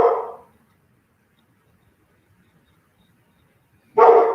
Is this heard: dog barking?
yes